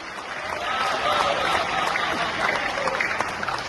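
Applause from an audience at a Marwari community patriotic and comic poetry gathering, a dense steady patter of many hands that holds evenly throughout without pause.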